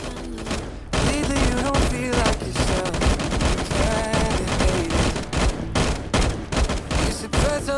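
Video game Life After: rapid gunfire from a Bayan weapon during a boss fight, dense overlapping bursts of shots with thuds over background music.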